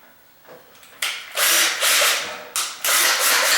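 A power drill fitted with a 1/8 inch bit bores a hole into a door: two loud, close bursts of high whining drilling, the first longer, separated by a brief pause, with the motor ramping up at each start.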